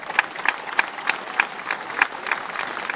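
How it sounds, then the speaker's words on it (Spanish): Crowd at an FMLN political rally commemorating the 1989 offensive in El Salvador applauds steadily, a dense wash of clapping with sharper individual claps popping through, moderately loud and continuous for the full stretch. "Recibamos con un fuerte aplauso a nuestro compañero Merino."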